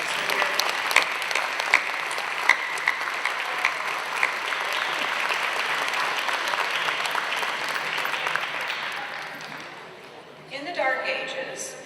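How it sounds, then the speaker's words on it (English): A large audience at a senior gala applauds parents, family and friends of graduates, with dense clapping and a few sharp close claps, fading before a voice begins speaking. "Can we have a round of applause for the parents,"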